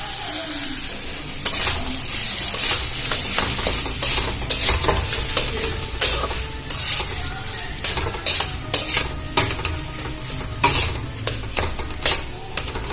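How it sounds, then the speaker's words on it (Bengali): Potatoes stirred in a frying pan over a continuous sizzle, with frequent sharp clatters and scrapes of the spoon against the metal pan, close and fairly loud, no voices. "সমস্ত আলুগুলো দিয়ে দিলাম এবারে ভালো করে নাড়াচাড়া করে নেব"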